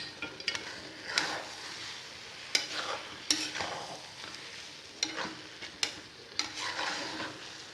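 A spoon stirs chilli egg in a hot frying pan, with repeated scraping and clinking strokes against the metal over a steady background sizzle, close and fairly loud.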